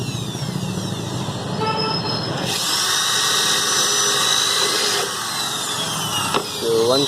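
A power drill bores holes through a metal number plate clamp for a Honda Activa scooter, a steady whining drone that rises louder midway and runs continuously near the mic, with faint background noise.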